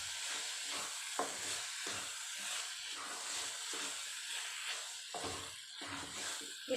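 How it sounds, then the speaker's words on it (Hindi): Grated carrot halwa roasting with mawa in a pan gives a steady soft sizzle and hiss, broken by the scrape of stirring every second or so, close and moderately quiet. "इसको भी हम मावे के साथ 1-2 मिनट तक भून लेते हैं"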